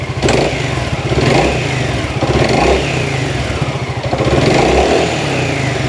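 A 2020 Honda Forza 350 scooter with about 8,000 km on a stock engine and original exhaust, revved close-up in three rising bursts over a steady idle, loud and alone.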